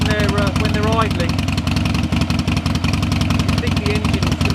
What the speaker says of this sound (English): you think the engine's going to rattle itself out of the frame.